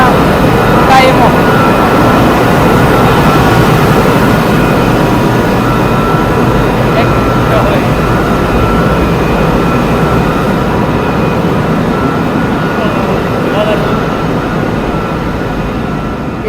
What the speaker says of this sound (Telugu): ఈ మోటార్స్ ఇంత పెద్ద మోటార్స్